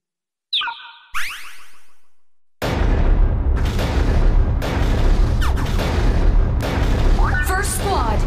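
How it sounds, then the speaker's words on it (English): Freeze missiles launching in a Godzilla video game, with short whooshing sweeps at the start, then a sudden heavy rumbling barrage that continues with bursts and scattered high chirps to the end. "Fire freeze missiles at will."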